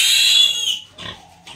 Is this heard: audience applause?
no